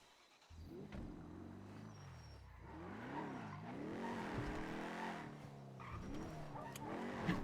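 A car drives in a NoPixel roleplay video game, its engine revving up and down in repeated waves as it accelerates and shifts, fairly close and continuous with no talk.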